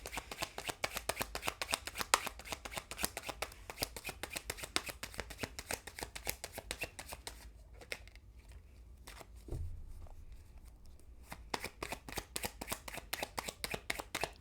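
Tarot cards being shuffled by hand, rapid crisp riffling clicks close up, a brief pause partway through, then the quick shuffling resumes.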